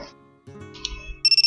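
A phone ringtone sounds in the video game Momoiro Closet, a bright electronic trill pulsing rapidly and loudly at the end after low rumbling background noise.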